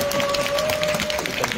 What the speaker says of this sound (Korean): 근데 박수 한번 치셔야 이게 힘이 날 것 같아요.